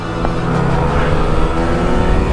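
Small Honda Express NC50 and Honda Spree scooter engines revving and accelerating in a drag race, a steady loud buzzing engine drone throughout with no pauses.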